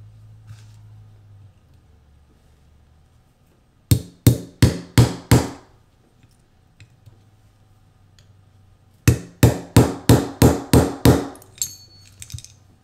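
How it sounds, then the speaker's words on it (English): Two bursts of sharp hammer taps, about five then seven quick strikes, driving out the trigger retaining pin of a SCCY CPX2 pistol, close and crisp with quiet pauses between the bursts. "Now the trigger retaining pin here has to be driven out. I'll drive from this side here."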